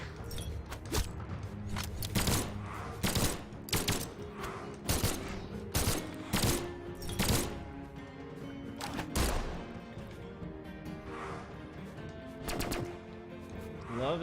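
Guns fire in the fighting video game Brawlhalla as rapid repeated bursts of shots over game music, loud and continuous, with the odd brief voice.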